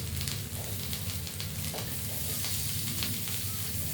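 Diced onion sizzles steadily in hot oil in a pan, a continuous close frying hiss dotted with small crackles and occasional stirring sounds, without speech.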